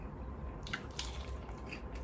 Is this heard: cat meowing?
no